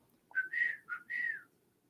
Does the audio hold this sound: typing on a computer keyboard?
no